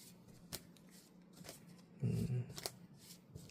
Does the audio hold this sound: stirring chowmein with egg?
no